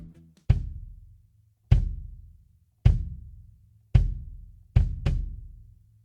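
Snare drum rimshots struck on the rim edge to imitate timbales, from a kit tuned for reggae one-drop: six sharp, loud, ringing cracks at uneven intervals, the last two close together, each decaying into silence.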